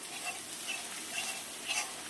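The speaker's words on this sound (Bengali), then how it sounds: "লঙ্কা দিচ্ছে, মাংস রান্না হচ্ছে।" Meat frying in a pan with chili and spices, a steady close sizzle with soft stirring scrapes and small crackling bursts, no voices.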